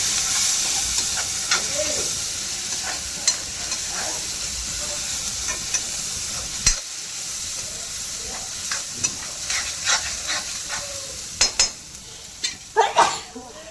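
Spices fry in hot oil with onions and tomatoes, a bright steady sizzle broken by frequent clicks and scrapes of a spoon against the pan, growing busier toward the end.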